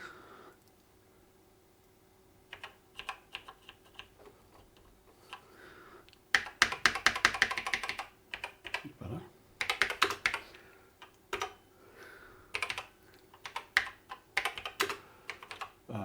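Keys clatter on a BBC Master 128 computer keyboard, with sparse clicks at first and then dense bursts of rapid typing, close and fairly clear over a faint steady hum.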